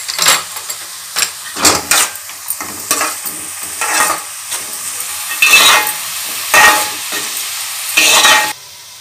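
Onions fry with turmeric and salt in a pan for a Kakinada-style chicken curry. A crackling sizzle is broken by repeated loud bursts of spatula stirring and scraping against the metal. No voices.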